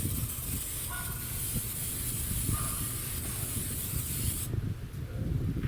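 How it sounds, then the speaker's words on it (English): Steady hiss of aerosol cooking spray sprayed onto a pan outdoors at a grill, held for several seconds, close and loud, then cutting off abruptly near the end. "Go ahead and spray this pan"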